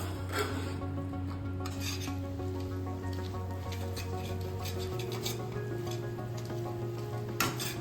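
A spoon scrapes and stirs Ukkali, a South Indian sweet, in an iron kadai with a steady rasping rhythm close by, backed by a constant low hum.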